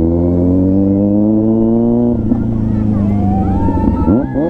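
A Kawasaki Z900 motorcycle fitted with a full system exhaust rumbles loudly and steadily up close, then its pitch climbs and wavers as the engine revs near the end.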